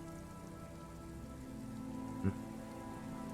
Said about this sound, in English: He raises his hand to his eyes to shield himself from the pattering rain.